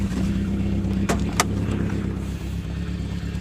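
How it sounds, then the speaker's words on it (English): Toyota AE86 engine idling just after start-up following a Seafoam treatment, a steady close low rumble with a faint whine and a couple of brief clicks partway through. "we just cranked it up and the idle's already dropped"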